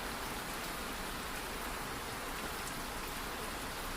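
Rain falls steadily, a dense, even hiss with no breaks or voices throughout.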